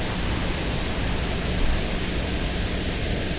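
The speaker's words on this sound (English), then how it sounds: "on the pink noise." Steady pink noise test signal recorded on a Denon DN-790R cassette deck hisses evenly and continuously, loud and unchanging from start to finish.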